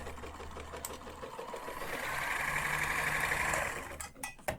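A stuck Kenmore sewing machine runs with a steady mechanical whir that swells louder midway, its strained running caused by the presser foot, heard up close with a few sharp clicks near the end and no talking.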